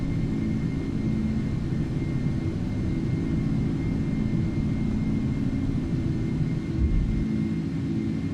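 A steady, loud jet rumble fills the cabin of a cargo airliner climbing out of Abu Dhabi after takeoff, with the landing gear retracting. The low roar holds even throughout with no voices.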